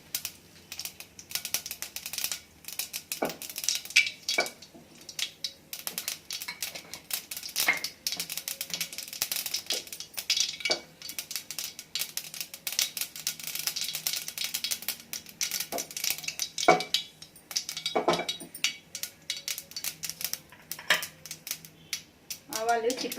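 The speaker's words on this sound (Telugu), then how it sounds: "కొంచెం ఆవాలు చిట్పట్లాడాలి" Mustard seeds spluttering in hot oil for a radish palya, irregular sharp crackles and pops, close and fairly loud, with occasional speech in between.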